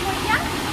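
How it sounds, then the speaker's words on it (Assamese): A brief burst of water rushes and gushes from a burst pipe that is flooding homes. The loud, steady roar runs under a voice. "এই গেমনৰ পানী কেনেকৈ ওলাইছে চাওক"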